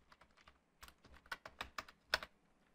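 Typing a file name on a computer keyboard, a short uneven run of close, sharp key taps growing louder toward the end, with no other sound.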